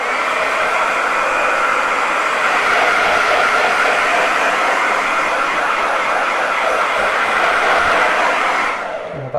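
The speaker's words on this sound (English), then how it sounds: "I'm going to grab my hair dryer" A hair dryer blows steadily and loudly at close range for several seconds with an even airy whoosh, then cuts off at the end.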